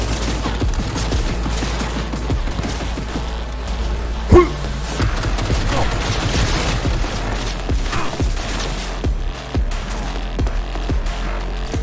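Rapid gunfire in Cyberpunk 2077, dense bursts of shots with thumps and booms over a constant low rumble, loud and sustained for the whole stretch.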